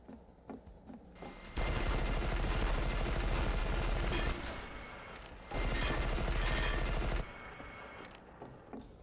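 Heavy automatic gunfire in E.Y.E.: Divine Cybermancy comes in two long, loud, sustained bursts of rapid shots, with a few sparse single shots and quieter gaps around them.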